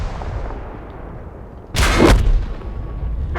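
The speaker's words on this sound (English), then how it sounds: "And there's the explosion sound. It sounds a little muted when you die." A tank explodes on destruction in World of Tanks, one loud muffled boom that swells suddenly out of quieter engine and battlefield rumble and then hangs as a lingering roar.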